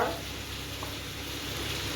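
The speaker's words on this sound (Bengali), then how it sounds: "এদিকে মাছ ভাজা হোক" Prawns fry in hot oil in a pan, giving a soft, steady sizzle that holds evenly throughout at low volume with no voices.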